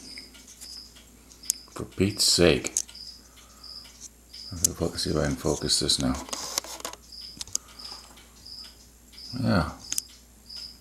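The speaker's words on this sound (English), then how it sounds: "There's my cricket." A cricket chirping in regular, rapid pulses, a thin high trill repeating steadily through the clip while someone talks close by and handles objects with rustles and knocks.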